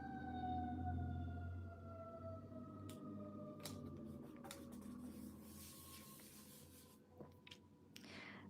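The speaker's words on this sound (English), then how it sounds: "The sirens going by." Emergency vehicle sirens wail as they pass by outside, heard faintly indoors with a slowly falling pitch, while occasional scratchy writing noises sit close by.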